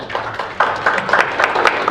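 Audience applause at a panel discussion: a dense burst of hand clapping from a seated crowd, growing fuller after the first half-second and continuing steadily.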